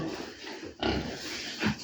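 Pigs on a farm grunting, a couple of short close grunts over a low, steady background of pen noise.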